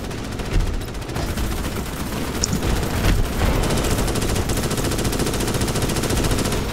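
Continuous rapid machine-gun fire in the Starship Troopers: Extermination video game, loud and unbroken, with heavier shots punching through the steady rattle.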